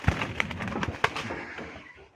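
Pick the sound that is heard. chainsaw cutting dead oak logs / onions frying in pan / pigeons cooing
pigeons cooing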